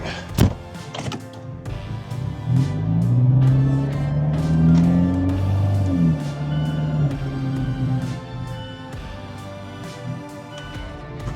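A car pulls in and turns around during an outdoor sunset car photography session, its engine rising in a steady nearby rumble with a thunk near the start, then easing back down, no voices over it.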